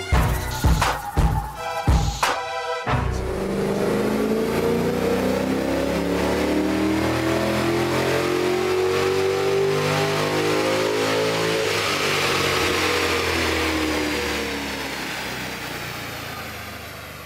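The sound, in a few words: naturally aspirated car engine revving on dyno with 98 octane fuel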